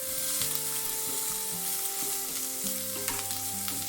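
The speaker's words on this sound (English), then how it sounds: "I just want to sweat down the celery and onion." Finely chopped celery and onion sweating in a frying pan, a steady close sizzle running throughout alongside a sustained tonal hum, with no talking.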